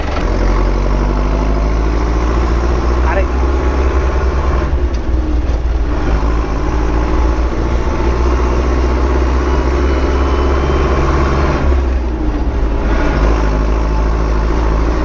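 A farm tractor engine runs steadily at idle on a field during fertilizer spreading before sunflower planting, a loud continuous low rumble throughout with a brief spoken word.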